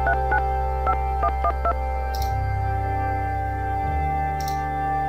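Phone dialing tones in the video game Invisible Apartment Zero: several short beeps in an irregular rhythm over steady synth music, then a couple of fainter chimes.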